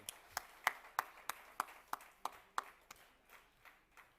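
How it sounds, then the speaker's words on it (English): Audience at a Germany-edition trade summit giving a few spaced, distinct claps for Gunnar May, slowing and fading over about four seconds in a quiet hall. "Ladies and gentlemen, big round of applause for Mr."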